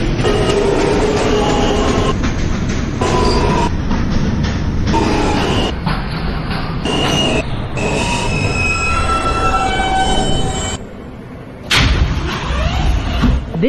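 A New York subway J local train rolls between stations, loud steady rumble from inside the car with high metallic wheel squeals, clattering joints, and a brief dip as it passes through.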